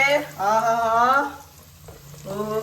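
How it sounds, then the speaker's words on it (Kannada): Beans hit a hot pan and sizzle steadily while cooking, the frying hiss running under voices and a low steady hum throughout. "ಓಕೆ, ಬೀನ್ಸ್ ಹೋಗ್ತಿದೆ ಒಳಗಡೆ."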